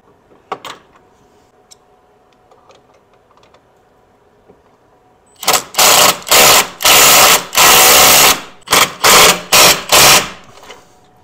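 A swivel-head wrench tightens a 24 mm bolt against a snowplow frame on a UTV snowblower, heard as a quiet lead-in followed by loud, rapid ratcheting bursts in about eight close, choppy pulses.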